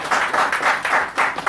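Audience at a felicitation ceremony for sportswomen and a senior journalist applauding together, a short burst of rhythmic clapping that pulses in quick waves, fairly loud and close.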